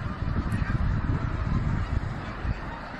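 A gigantic gathering of snow geese in Quebec honks as one wall of sound, countless distant calls blending into a steady roar with a low rumble beneath.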